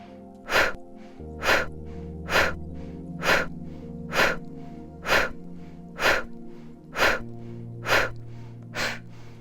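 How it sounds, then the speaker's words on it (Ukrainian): Ten rhythmic breaths, each a quick nasal inhale followed by a sharp, forceful exhale through the mouth, repeated at a steady pace about once a second as morning energizing breathing, close and clear over a soft steady background tone. "вдих через ніс і швидкий видих через рот"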